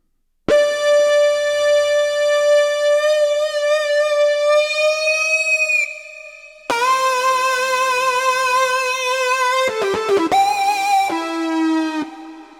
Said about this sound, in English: I have a wailing guitar